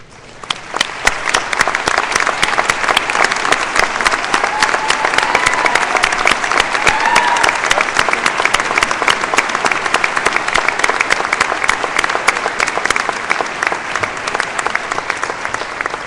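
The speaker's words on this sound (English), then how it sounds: "join me in applauding these outstanding students" Audience at a 2012 spring commencement ceremony applauds the graduating honors students, a dense, steady wash of clapping that builds quickly and holds loud and sustained for the whole stretch, with no talk over it.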